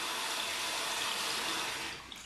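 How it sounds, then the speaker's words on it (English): Cold water pours steadily from a tap over an alum block, a continuous close splashing rush that tapers slightly at the end. "And what you do is just hold it under the cold water."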